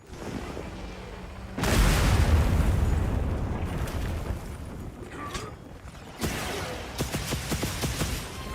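A Wyvern Fire blast from a gunlance in Monster Hunter Wilds erupts with a sudden loud boom, followed by a long roaring rumble, then a second burst with crackling pops near the end.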